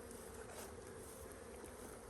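Honey bees buzz around an open hive in a newly set up bee yard, a steady close drone holding evenly throughout with no voices.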